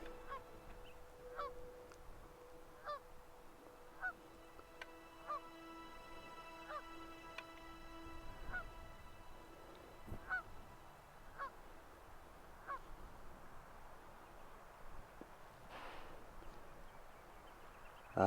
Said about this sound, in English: It's a wild goose.